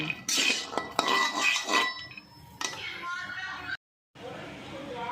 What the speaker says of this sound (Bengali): শুকনো কড়াই আমি একটু নেড়ে নিচ্ছি